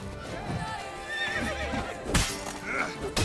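Geralt's horse Roach in the video game Witcher 3 gives a wavering neigh amid clopping hooves and game noise, followed by a sharp burst of combat sound.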